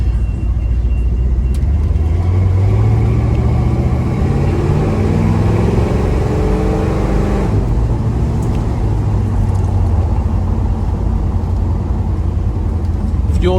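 A 1972 Chevrolet Chevelle L48 gets under way. A deep engine rumble climbs in pitch through the gears and then settles into a steady cruising drone, loud and close, with some talk underneath.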